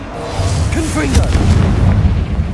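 Confringo fire spell blast in Hogwarts Legacy, a loud booming burst that rumbles for a couple of seconds, with a voice speaking briefly over it.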